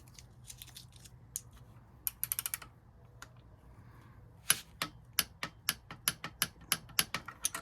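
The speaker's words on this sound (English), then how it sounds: "we're gonna get the wrench on, get the torque wrench on." A torque wrench ratchets on the rear axle of a 2021 Yamaha MT-03 motorcycle, with scattered soft clicks at first, then a steady series of crisp, close clicks in an even rhythm.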